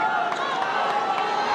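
At a Philippine professional basketball game, the arena crowd keeps up a continuous roar and murmur of chatter, heard steadily and at a distance beneath a nearby announcer's voice.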